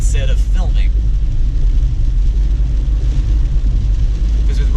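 Car driving along a winding mountain road from Mostar to Sarajevo, with a constant loud low rumble of engine and road noise and brief speech near the start.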